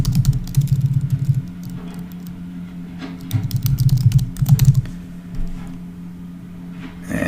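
Someone types a domain name on a computer keyboard, with close, quick bursts of key clicks separated by short pauses and a faint background hum.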